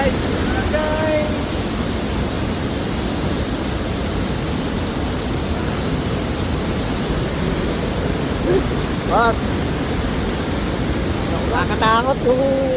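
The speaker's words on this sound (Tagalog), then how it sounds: "nakakatakot yung impact ng tubig." Water pours over Wawa Dam in a loud, continuous broadband roar that fills the whole stretch, with a few brief voices breaking through now and then.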